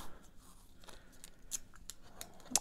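Strips of washi tape are torn off at close range, giving several faint, quick crackly rips at irregular intervals against a quiet background.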